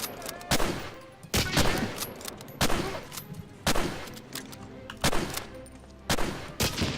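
An enemy soldier firing in a war video game, a run of sharp gunshot bursts spaced about a second apart, each a loud crack with a short ringing tail, with no talking between them.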